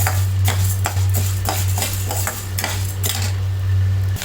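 Sago pearls frying in ghee in a pan for carrot sago kheer, stirred with a spoon that scrapes and clinks against the metal in steady repeated strokes over a constant low hum, close and fairly loud.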